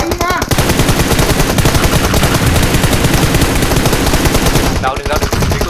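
Rapid automatic gunfire from a PUBG Mobile battle, loud and dense bursts running almost continuously with a brief pause near the end, mixed with faint in-game sounds.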